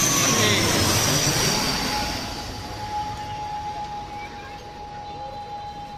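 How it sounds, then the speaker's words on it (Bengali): A small ATR turboprop airliner of US-Bangla Airlines passes overhead near Uttara. Its broad engine roar is loud at first and fades gradually, leaving a steady high tone behind. "এটিআর মডেলের ছোট বিমান দেখতে পাচ্ছি আমাদের মাথার উপর দিয়ে যাবে"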